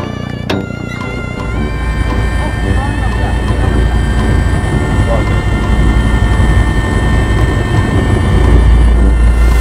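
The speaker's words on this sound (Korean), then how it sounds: "헬리콥터 오고 있어!" A helicopter approaches, its loud, steady rotor and engine roar filling the scene and building slightly toward the end, with excited voices from people watching nearby.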